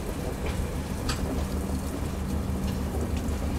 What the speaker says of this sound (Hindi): बारिश यहाँ भी अच्छा खासा हो रहा है भाई